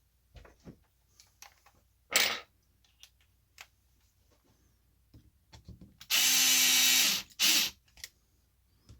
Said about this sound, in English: when I use this drill or when I use this driver